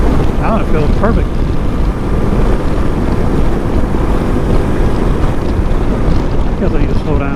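Riding a Lifan KPT 400 motorcycle fitted with a 43-tooth rear sprocket, with steady, loud wind buffeting over the microphone and a low engine drone underneath, constant throughout.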